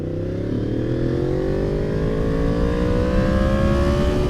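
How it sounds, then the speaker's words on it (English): A Yamaha MT10 motorcycle accelerates uphill under moderate throttle, its engine note climbing steadily and loudly with rising pitch, close and continuous throughout. "Watch this psychopath of a motorcycle."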